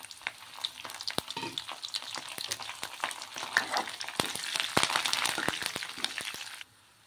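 Curry leaves and three or four dried red chillies crackle and sizzle in hot oil for a tempering, with sharp pops scattered over a steady frying hiss that fades out abruptly at the end.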